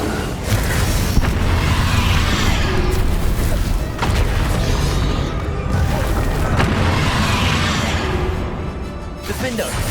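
Bombarda spell explosions from Hogwarts Legacy boom repeatedly, loud and heavy blasts every couple of seconds amid busy combat sound, with a voice speaking over them.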